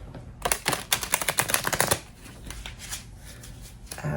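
Tarot cards being shuffled by hand: a close, rapid burst of crisp riffling flutters lasting under two seconds, followed by softer card handling.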